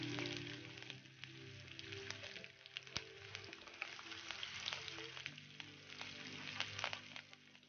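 Finely chopped garlic and green chili frying in oil for misal, a soft, steady close sizzle with dense crackling pops and no voices.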